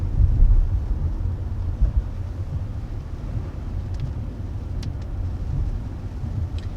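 A 2023 Genesis GV60 electric SUV cornering on the road, heard from inside as a steady low rumble of tyre and road noise with faint wind, a few brief ticks over the top.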